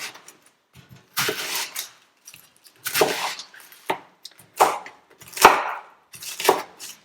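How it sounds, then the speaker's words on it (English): A knife roughly chops onion, carrots and parsley with stalks on a cutting board for chicken stock, in short bursts of crisp thuds and crunches separated by brief pauses, close and clear with no talking. "roughly chop an onion, some carrots, some parsley, including the stalks"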